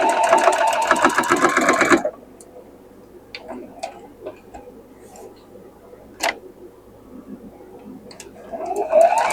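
A sewing machine joins quilt block pieces in a brief, loud, close two-second burst, followed by quiet room tone with scattered small clicks and handling noises.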